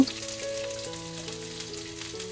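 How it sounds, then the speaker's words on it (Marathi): Onion fries in about half a ladle of oil for misal pav, giving a steady close sizzle and crackle that stays even throughout with no voices. "तर कांदा भाजायसाठी तेल घालून घेतलंय मी अर्धा पली। आता कांदा भाजायला ठेवते।"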